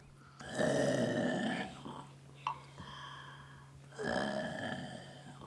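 At a live sound-effects workshop show, a voice imitates loud snoring: two long, rasping, drawn-out snores separated by a quieter pause with a brief click.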